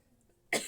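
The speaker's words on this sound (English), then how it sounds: "Feeling that tickle, wanting to have a little cough." A single short cough from a woman at the end of a brief quiet pause, close and abrupt.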